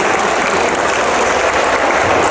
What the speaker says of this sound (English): again, a big applause for those guys and hard work